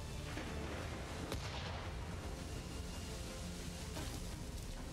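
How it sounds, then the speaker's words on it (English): An explosion goes off in the Assassin's Creed III Remastered video game, a loud, continuous roar of booming blasts and gunfire-like crackle that fills the whole stretch. "I'm standing right where that explosion is going to go off."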